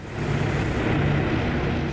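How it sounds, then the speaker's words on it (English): Carrier aircraft parked on a flight deck with engines running in a naval strategy video game, a continuous dense engine roar at steady loudness with no talk. "all these aircraft just parked on the deck ready for takeoff with their engines just running"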